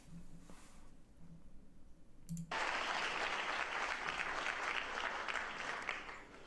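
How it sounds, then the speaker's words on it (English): After a quiet stretch, an audience at a Joe Biden White House speech suddenly bursts into sustained applause that carries on steadily to the end, heard from a distance. "every time something happens and they're like laughing or clapping"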